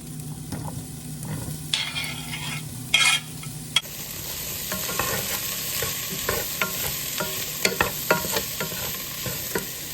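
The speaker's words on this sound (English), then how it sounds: "I got my red onions, yellow onions, and celery in here sauteing." Red onions, yellow onions and celery sautéing in a pan with a steady sizzle, broken by scraping stirs and sharp clicks of a utensil against the pan, with a brief louder clatter near the start.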